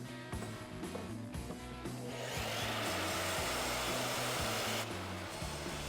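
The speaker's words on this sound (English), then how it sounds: "let's go ahead and chop this down on the miter saw" A miter saw chops down a wooden board for a book stand: a loud, steady broadband whine of the blade cutting through wood runs for a couple of seconds, then cuts off.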